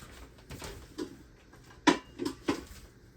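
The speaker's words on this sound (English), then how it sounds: "I'm gonna grab a small skillet." A small skillet is grabbed from a kitchen cupboard with a few scattered clanks and knocks of metal cookware, quiet and irregular.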